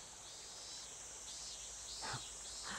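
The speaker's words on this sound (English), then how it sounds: "Ooh, the cicadas have started chirping." Cicadas chirping in the mountains of a ninja video game, a steady high-pitched insect drone that runs through the whole stretch, with a couple of brief louder chirps near the end.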